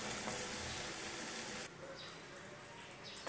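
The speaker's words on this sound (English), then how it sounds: "We are frying this over high flame." Chicken curry frying over a high flame, giving a loud, steady broadband sizzle that drops to a lower level about halfway through and carries on without speech.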